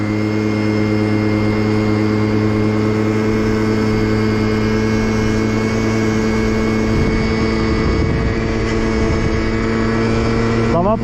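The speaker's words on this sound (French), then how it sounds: "je vais partir moitié de gaz, voire 3/4 de gaz, et on va voir comment ça va partir les gars" An MBK moped engine held at three-quarter throttle, a loud, steady, droning rev that stays at a constant pitch throughout.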